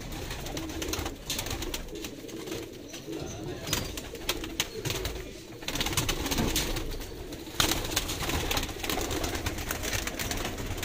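A flock of Sialkoti 35 pigeons coos steadily up close, their soft overlapping calls forming a continuous murmur with occasional wing rustles and no talking.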